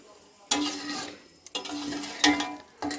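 Spoon scraping and stirring chicken curry with potatoes, chicken skin, gizzard and liver in a pot, three or four short scraping strokes with a soft sizzle between, close and fairly quiet.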